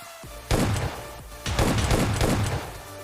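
Gunfire from PUBG Mobile Lite gameplay, two loud close bursts of rapid shots separated by a brief pause, standing alone without talk.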